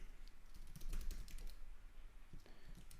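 Typing a terminal command on a computer keyboard: a quick burst of key clicks, close and fairly quiet, with a short pause before a few final presses.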